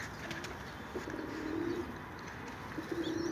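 A young pigeon cooing softly close by, a few low rolling coos over a hushed background, no speech.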